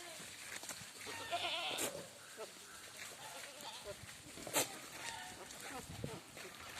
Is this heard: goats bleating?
yes